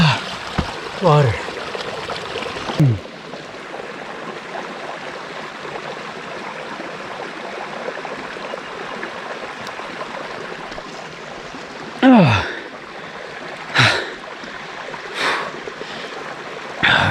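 A mountain stream along a trail near Little Yosemite Valley in Yosemite makes a steady, moderate rushing wash, with brief bursts of a voice over it near the start and toward the end.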